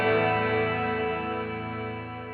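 Sustained guitar chord through a Donner REVECHO delay/reverb pedal set to long decay, ringing close and steady as the wash of reverb slowly fades, alone without voices.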